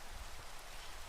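Rain falls steadily in the video game Minecraft, heard as a faint, even hiss of drops across a short stretch with no talking.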